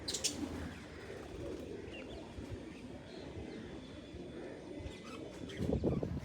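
Pigeons coo in low, murmuring calls nearby, with a few faint chirps and a steady background hum.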